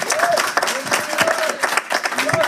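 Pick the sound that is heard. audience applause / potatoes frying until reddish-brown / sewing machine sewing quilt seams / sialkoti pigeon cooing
audience applause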